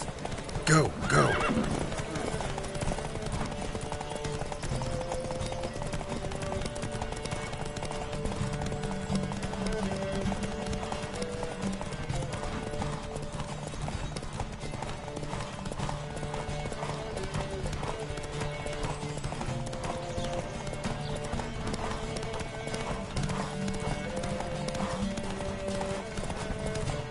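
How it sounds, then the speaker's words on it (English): Horses galloping in a race in the video game The Witcher 3, with dense rapid hoofbeats and a sharp whinny near the start, continuing steadily under speech and game sounds. "Don't spare the horse!"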